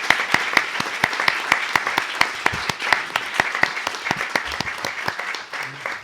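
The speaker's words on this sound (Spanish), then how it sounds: "Solamente agradecerle una vez más a Ramón Darío, y a él les pido un aplauso" An audience applauds in thanks to Ramón Darío at a cultural gathering, a sustained wash of many clapping hands with sharp individual claps standing out over several seconds.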